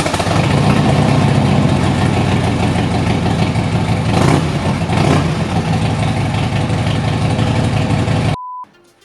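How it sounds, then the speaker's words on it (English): Harley-Davidson Road King firing up from cold through a Vance & Hines tapered slash-cut exhaust, a loud, close, rumbling idle with a few throttle blips before cutting off abruptly. "So this is a cold start before with the Vance & Hines tapered slash cut."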